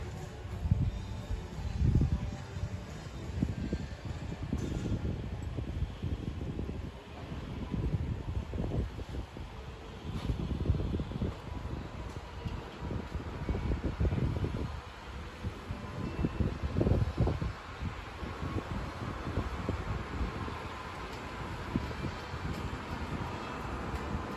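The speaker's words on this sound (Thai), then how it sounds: "ลมพัดเย็นสบายมากเลยค่ะ" Cool wind blows across a seaside marina at a yacht club in Pattaya, a steady low rumbling gust buffeting the microphone in uneven surges, with faint background hum and no clear speech.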